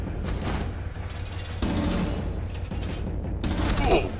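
Gunfire rattles through a Rainbow Six Siege match in several bursts of shots with mechanical clatter between them, and a player's voice comes through faintly.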